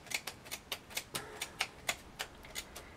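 Repeated crisp snips of scissors cutting paper, about a dozen sharp clicks in a steady rhythm, close and fairly quiet, with no talking.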